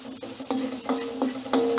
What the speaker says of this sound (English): First, going to add the ginger to saute the ginger first.